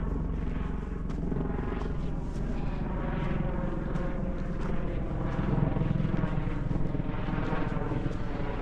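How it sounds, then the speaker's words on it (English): A helicopter flies overhead in an African setting, its steady rotor thrum and engine drone filling the air continuously with a faint pulsing beat, fairly distant and without talking over it. "That's an helicopter. Some rich guy is flying."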